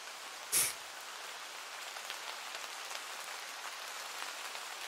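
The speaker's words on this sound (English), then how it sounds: "it looks like it rains about this time every day, so don't worry about watering your plants" Rain falls in the farming video game Harvest Days as a steady, soft patter of drops that continues throughout. There is one brief loud click near the start and no talking.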